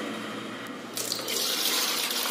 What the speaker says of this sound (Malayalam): ആദ്യം നമുക്ക് വെള്ളം നിറക്കാനുള്ള ഈ ക്യാനിലേക്ക് വെള്ളം നിറക്കാം.